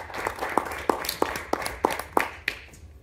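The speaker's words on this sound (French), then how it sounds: "Vous pouvez l'applaudir." Audience claps for a speaker at a French product-and-AI talk, a thin, sparse applause with distinct individual claps sounding in a loose, roughly even rhythm, moderately close.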